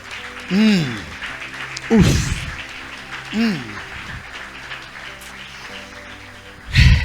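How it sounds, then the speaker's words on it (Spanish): Congregation applauding the Lord in a Spanish-language church service, a soft background patter of clapping running beneath a voice that calls out in several loud bursts. "dele un aplauso al Señor"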